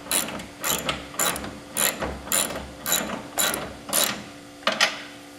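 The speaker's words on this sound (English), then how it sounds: "I like to use the socket wrench." A socket wrench ratchets to tighten a pivot bolt, with about eight even clicking bursts in steady rhythm, close and clear with no talking.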